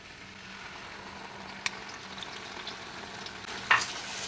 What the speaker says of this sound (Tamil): இந்த எண்ணெயிலையும் நெய்யிலையும் நல்லா வதக்கிக்கோங்க